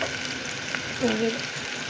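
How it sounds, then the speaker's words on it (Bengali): Water poured into a hot pan of frying spices for gravy gives a continuous close sizzle and bubbling, with a short pouring or stirring accent partway through. "এখন আমি একটু গ্রেভি করার জন্য পানি দিয়ে দেবো"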